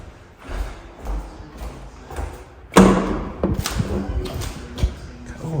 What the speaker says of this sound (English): That room at the back, it sort of, the door bangs.